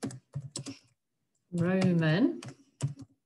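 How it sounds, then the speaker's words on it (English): Someone types on a computer keyboard in short bursts of clicking, with a pause while a person briefly speaks in between. "otters will know that my typing skills are not the best, so you might have to bear with me as we're typing through."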